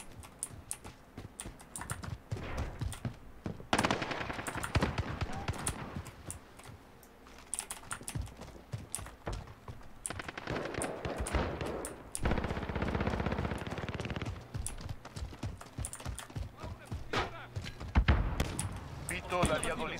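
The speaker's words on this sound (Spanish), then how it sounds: "Cuidado al disparar, detente." Rapid bursts of automatic gunfire in the online shooter Call of Duty clatter in irregular volleys, mixed with keyboard clicks and players talking over the action.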